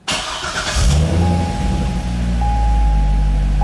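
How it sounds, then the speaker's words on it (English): A Chevrolet Corvette with ABS and traction control faults starts up nearby: a brief whirring crank, then the engine catches and settles into a steady, loud, low idle rumble with a thin whine over it. "Let's start the car."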